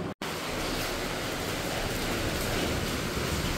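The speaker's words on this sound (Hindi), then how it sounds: "तो हो रहा है सुबह से बारिश।" Steady rain falls throughout a morning, a continuous broadband hiss of drops at even loudness, with a brief dropout near the start and no voices.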